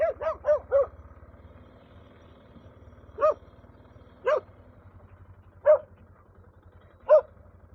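A single dog barks near a motorcycle on a rural road, a quick burst of three or four yaps followed by isolated barks every second or so over a low, steady engine rumble.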